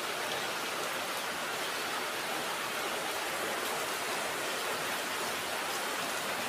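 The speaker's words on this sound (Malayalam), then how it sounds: "കണ്ടില്ലേ, നല്ല മഴയാണ്." Heavy rain pours outside, heard from a sheltered sit-out, a dense, unbroken hiss that holds steady and loud throughout with no voices.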